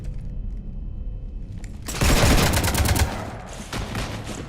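Burst of heavy gunfire aboard a ship in the video game Mass Effect 3, erupting loud and dense after a quieter ambient stretch, with rapid overlapping shots that ease off then pick up again.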